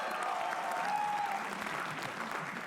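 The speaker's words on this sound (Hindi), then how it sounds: "तालियां इनके लिए प्लीज।" An audience at a comedy roast breaks into steady, even applause, a continuous wash of clapping at moderate distance with a faint voice briefly in the background.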